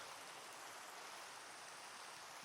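Steady, soft rain hisses evenly in the Minecraft video game, a faint continuous wash with no breaks and no voices.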